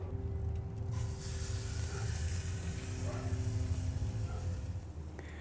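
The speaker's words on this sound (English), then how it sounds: "Now we're going to give it a nice sear." Rested beef searing on a hot Pit Barrel Cooker fired with lump charcoal, giving a sudden loud hiss that settles into a continuous close sizzle with a low rumble underneath.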